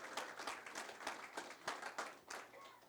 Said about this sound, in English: how about another round of applause for Jerry's great introductory melodies